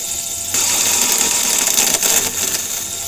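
A case trimming machine working through cartridge brass, giving a steady mechanical whir with a bright metallic buzz that kicks in sharply and keeps running close and loud.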